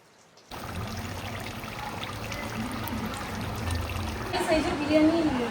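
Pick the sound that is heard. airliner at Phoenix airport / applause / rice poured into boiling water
rice poured into boiling water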